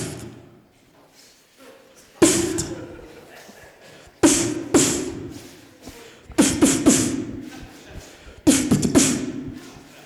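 A group of voices imitates a big snare drum in a vocal exercise, with four or five loud breathy bursts spaced a couple of seconds apart, each a sharp hissing attack that trails off, close and without spoken words.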